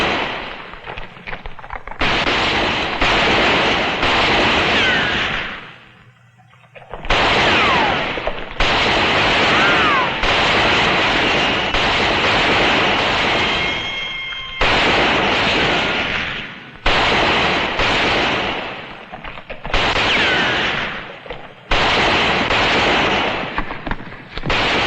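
Gunfire from a shootout in a western TV episode, with rifles and revolvers firing in dense, loud, repeated volleys broken by short pauses.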